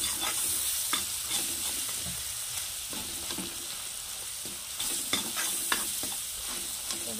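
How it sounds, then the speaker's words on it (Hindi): Masala with garam masala and salt is stir-fried in a pan. Bright, continuous sizzling is broken up by repeated spoon scrapes and taps. "मसाला को अच्छी तरह से भून लेते हैं गाइस।"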